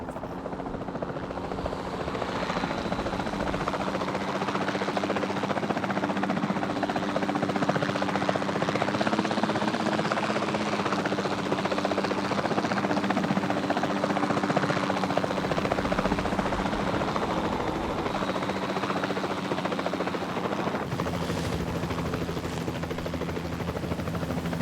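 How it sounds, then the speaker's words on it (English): Capture team helicopter in Jurassic World Evolution 2, a steady, loud rotor thrum and engine whine holding for over twenty seconds with slight swells and no voices. "the sensible thing is to take a capture team helicopter"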